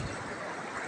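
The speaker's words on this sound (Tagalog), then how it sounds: "Napapansin nyo mga kasipit ay malakas yung alon." Strong sea waves at night during a spearfishing trip, a broad continuous wash of surf and wind rushing steadily and moderately loud, with no distinct breaks.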